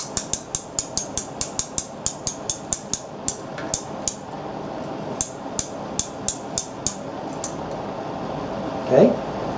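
Crossbow hand crank cocking device on a 2016 Stryker Katana crossbow, ratcheting as a fast, even series of sharp clicks that slows and spaces out toward the end, close up, with a brief voice near the finish.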